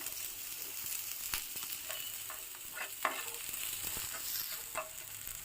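Finely chopped green chilies fry in a pan with a soft, continuous sizzle, punctuated by occasional light clicks and scrapes of stirring; fairly quiet, with no talking.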